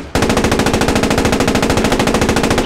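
Tank machine gun firing on infantry in trenches in the World War II game Post Scriptum, one sustained loud, rapid, evenly spaced burst starting abruptly and running without pause.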